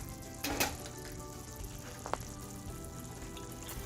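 Beef keema mince cooking slowly in a pan over a low flame, giving a steady soft sizzle and crackle throughout with a couple of brief louder pops.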